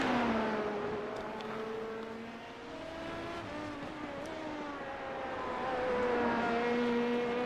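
Race cars circling Brands Hatch in the iRacing sim, several engine notes droning and shifting pitch at once, a steady mid-distance roar of multiple cars without pauses.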